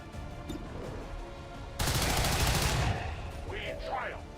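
Toy gun sound effect firing a loud, continuous automatic burst that breaks in suddenly for about a second, then fades back to a quiet background where faint game-style chatter is heard.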